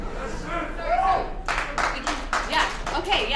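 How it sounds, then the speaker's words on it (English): A voice speaks briefly, then a short burst of clapping follows: several distinct, fairly loud claps from a small group, ending abruptly. "give him a round of applause for that"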